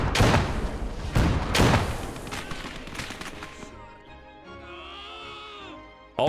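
Video game combat with a burst of heavy, punchy gunshots and booming explosions up front, fading into rumbling debris and a thin whining tone, loud and close.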